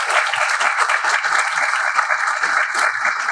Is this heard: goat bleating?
no